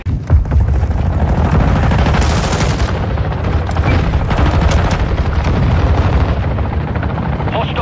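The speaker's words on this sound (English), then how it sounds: "Request an airstrike at this location." Airstrike explosions rip through a Call of Duty: Modern Warfare 3 firefight: loud, continuous booming and crackling gunfire, dense and close, with a brief heavier blast burst near the middle.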